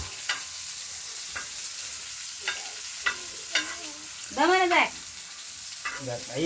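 Okra, bhindi, stirred and frying on an iron tava in a village home kitchen, a steady sizzle broken by scraping spatula strokes. A voice calls out briefly near the end.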